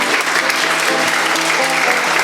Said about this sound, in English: I want to give a big round of applause to all of our contestants.